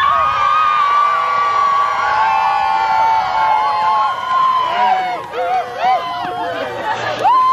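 Balloon pilots and spectators at a 2001 hot air balloon festival cheer and whoop loudly, a lively crowd roar with high shouts and chatter rising and falling throughout.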